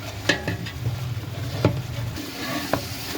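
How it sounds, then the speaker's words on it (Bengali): A spice mixture is stirred and fried in a pan for Arabian kabsa: a faint, low sizzle is broken by a few scattered scraping stirs, with no one talking. "সমস্ত মশলাগুলো ভালোভাবে মাখিয়ে মিক্স করে দিয়ে মোটামুটি ভালো কষিয়ে নিতে হবে।"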